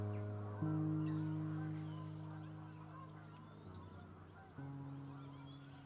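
Several geese honk in loud, overlapping calls at Amberley Wildbrooks wetland, with a couple of sudden louder bursts partway through; faint background chatter underneath.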